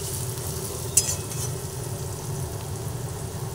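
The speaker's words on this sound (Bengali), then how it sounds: "হলুদ গুঁড়ো দিয়ে ভালোভাবে নাড়াচাড়া করে করে পেঁয়াজ আর রসুন দুটোই ভেজে নিলাম" Onion and garlic frying in oil with turmeric powder, a soft continuous sizzle with a single sharp utensil tap near the start and gentle stirring under it.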